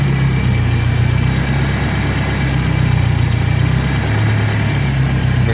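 Turbocharged BMW E30 with an M42 engine idling close up, running with a slight surge from an unfinished tune while its cooling system is bled; a loud, continuous, rumbling idle with no talking.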